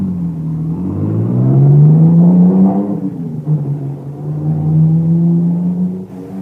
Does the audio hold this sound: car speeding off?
yes